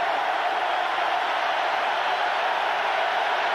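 A Syracuse football stadium crowd roars steadily to back its defense against Miami, a continuous broad wash of cheering and noise with no breaks, loud and distant-sounding throughout.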